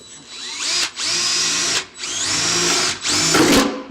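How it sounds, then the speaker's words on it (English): A power drill bores holes through the thin metal of a BMW transmission tunnel in three close, loud bursts of high whining, each with a short pause between, and no talking. "We're going to get them drilled out."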